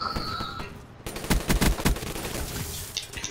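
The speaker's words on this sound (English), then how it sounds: "Where did those gunshots come from?" Rapid bursts of gunfire crackle in a Black Ops 3 Interdiction match, loud clustered shots after a brief lull, with a weaker burst following near the end.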